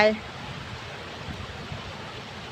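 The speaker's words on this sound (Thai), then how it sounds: "กลายมาเป็นน้ำตกอยู่นี่จ้ะ" Snowmelt waterfall tumbling down a high mountainside in Norway, a steady broadband rush of flowing water that fills the whole clip at an even level.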